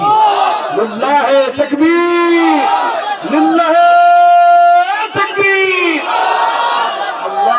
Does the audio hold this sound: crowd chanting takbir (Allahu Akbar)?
yes